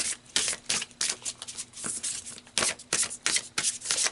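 Tarot cards are shuffled and pulled in quick, papery bursts that repeat in an uneven rhythm, close and fairly loud, with no talking.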